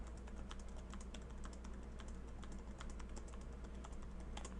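Numbers typed on a computer keyboard in a lecture setting: a steady run of quick, light key clicks over a constant low hum, fairly quiet, no voices.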